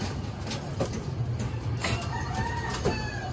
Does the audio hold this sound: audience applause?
no